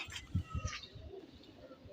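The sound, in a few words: pigeons cooing, an old-bloodline pair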